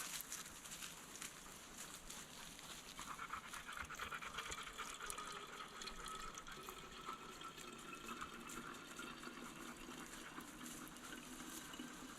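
Liquid lamp fuel poured straight from a container into a black lamp can with no funnel, a continuous close gushing, gurgling stream that runs steadily throughout without pause or speech.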